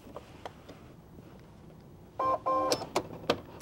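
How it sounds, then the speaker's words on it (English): A sewing machine stitches along the edge of a denim clutch in two quick, close bursts of whirring motor, followed by a few sharp clicks over a quiet background. "And we're just going to sew as close to that edge as possible."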